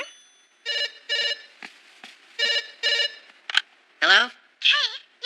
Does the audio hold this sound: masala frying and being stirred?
no